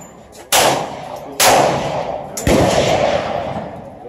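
Three loud, close pistol shots ring out at an outdoor gun club range, each a sharp crack followed by a long echoing decay, spaced about a second apart.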